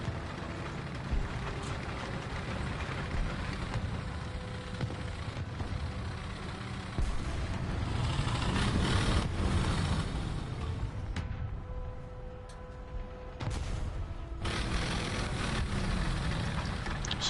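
A low engine rumble from an enemy tank in a tank video game drones steadily throughout, swelling and receding slightly as it moves, with occasional louder thumps mixed in and no talk.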